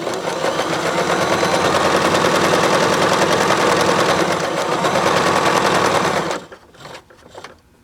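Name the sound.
Bernette b33 sewing machine stitching a row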